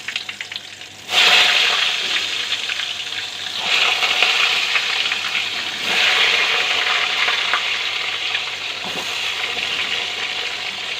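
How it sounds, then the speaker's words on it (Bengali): Pointed gourds (potol) hit hot mustard oil and fry with a loud, continuous hissing sizzle, swelling at intervals as the pieces are stirred, with no voices. "তেলটা গরম হয়ে গেছে, এবার আমি পটলগুলোকে ছেড়ে দেবো ভাজবার জন্য"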